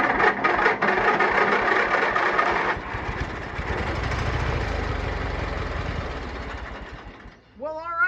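An abandoned lawn mower engine fires up and runs steadily after its solenoid is jumped, a loud, close, continuous chugging idle for several seconds that sputters out near the end, with a voice briefly heard as it stops.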